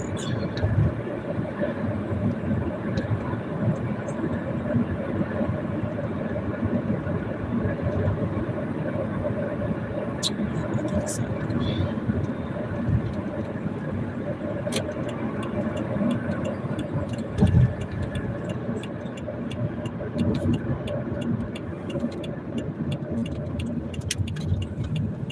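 Steady low road rumble and engine drone from inside a moving truck, with occasional faint clicks and rattles and no talking over the continuous noise.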